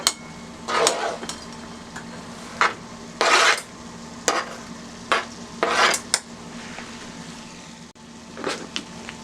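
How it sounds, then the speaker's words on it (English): A spoon stirs a pot of mixed vegetables with yellow onions, cilantro and serrano pepper, giving a series of scraping, clinking strokes in irregular bursts, close and fairly loud, with no talk. "So let's give that a good stir"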